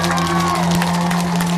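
A large crowd at a protest against Formosa roars and cheers in a dense, steady wash of voices with clapping mixed in, loud and close.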